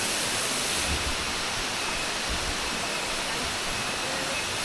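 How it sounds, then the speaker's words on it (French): Steady broadband rush of falling water, loud and continuous with no breaks, from a small waterfall in Bali heard up close. "Petite cascade."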